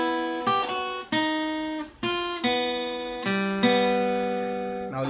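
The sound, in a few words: guitar playing a practice melody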